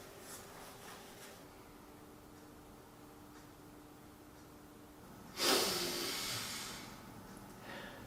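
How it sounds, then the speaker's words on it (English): A soft, breathy exhale onto a camera lens swells suddenly and fades over about a second, close to the microphone, in an otherwise quiet room. "I'm breathing, not sniffing."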